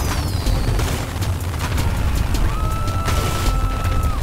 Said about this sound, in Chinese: 放烟火了！